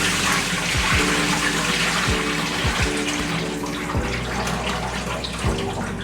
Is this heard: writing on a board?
no